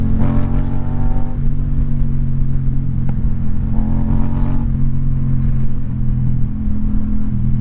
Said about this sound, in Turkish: Baksana egzoz sesi o kadar çok fazla ki